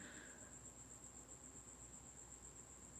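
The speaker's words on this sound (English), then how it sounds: "there's a cricket in the house that always turns on, right? Like I hear it right now" A cricket chirps indoors in a house, a steady, continuous high trill heard faintly and alone in a quiet room.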